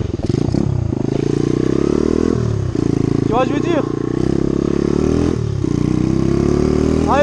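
A rider's new motorcycle on a forest ride gives a loud, steady engine drone with gear shifts and throttle swells, close up, while someone talks in French over it.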